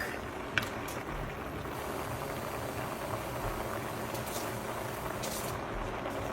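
Pot of sausage, cabbage and carrots simmering on medium heat on a stovetop, giving a steady, quiet bubbling hiss that runs unbroken throughout, with a faint clink near the start.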